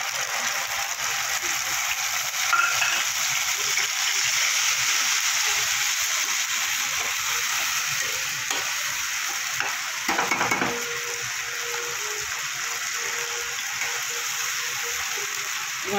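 A spice paste of ginger, green chilli and fennel sizzles steadily in hot oil in a pan, a constant bright crackle with a brief stirring scrape partway through.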